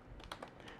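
Computer keyboard typing, a few quick key taps in a short faint burst, entering a line of code into a web page.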